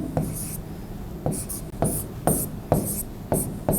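Chalk or marker strokes on a board during a physics lecture, a series of about eight short scratchy writing bursts in an irregular rhythm, close and fairly clear.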